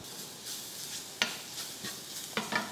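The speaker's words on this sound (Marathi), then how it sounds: "कणिक छान कांद्याबरोबर परतून घ्यायची" Flour dough and onions are sautéed in a pan, heard as a soft, low sizzle broken by several sharp spatula scrapes and clicks, close by and with no voices.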